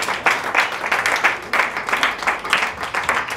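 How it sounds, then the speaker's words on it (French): A crowd applauding steadily at an opening ceremony, many hands clapping together in a dense, even wash of sound for a few seconds. "qu'on peut applaudir également"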